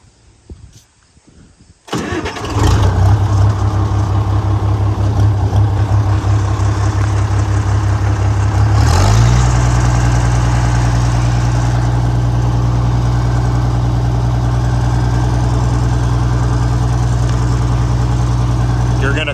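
An International 706 tractor engine cranks and catches after a quiet start, then settles into a loud, steady diesel idle with a deep rumble, shifting pitch briefly partway through before running on evenly.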